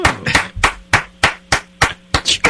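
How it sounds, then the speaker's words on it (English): Steady rhythmic clapping from a few people, about nine sharp claps at an even pace, loud and close, with no talking over it. "That was like the long clap as opposed to the slow clap."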